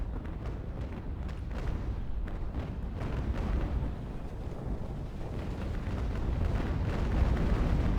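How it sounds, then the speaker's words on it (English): Continuous deep, rumbling booms of cannon fire as sailing warships trade broadsides in the Naval Action naval combat game, blending into a dense, steady roar that stays loud through the whole passage. "A fairly even broadside exchange here."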